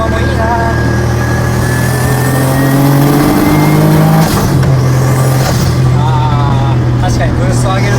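A turbocharged, roughly 220-horsepower Honda S660 kei sports car with a dog-engagement gearbox accelerating on the road, its engine note rising steadily in pitch through the revs while occupants talk over it inside the cabin.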